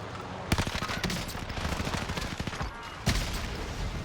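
Rapid bursts of DP27 machine gun fire in a video game, two sharp onsets with sustained rattling automatic fire in between, loud and close.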